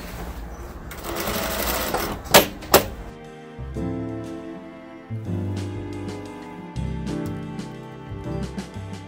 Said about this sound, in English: Usually I run the stitch with the long stitch and then I'll go like that.